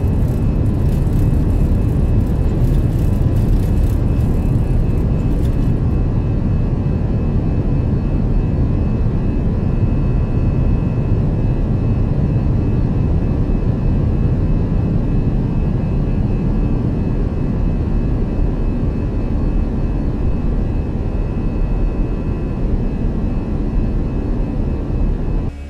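An airliner rolls for takeoff in a flight simulator, a loud, steady jet-engine roar with broad rumbling noise that holds almost unchanged for the whole stretch, no voices present.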